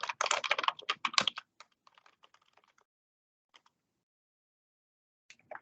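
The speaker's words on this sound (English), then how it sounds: "Maybe I can start typing that out." Keys clatter on a computer keyboard in a dense, fast burst, then thin out to scattered single taps and a final short flurry, close and otherwise quiet.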